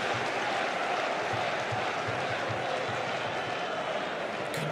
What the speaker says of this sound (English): it rightly receives a response from the home crowd